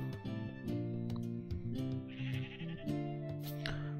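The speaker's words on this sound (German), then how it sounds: "So viele Schafe." Sheep bleating in the video game Phoenotopia: Awakening, several wavering calls in a row over game music, moderately loud and close, with no talking.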